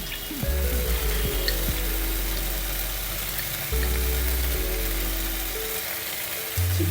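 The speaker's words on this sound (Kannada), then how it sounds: "ಇವಾಗ 2 ಟೇಬಲ್ ಸ್ಪೂನ್ ಚಿಲ್ಲಿ ಪೌಡರ್ ಹಾಕೊಳ್ಳೋಣ." Chilli powder frying in hot oil in a pan for a restaurant-style paneer matar masala, a loud steady sizzle with bubbling and watery hiss throughout, close up and without talk.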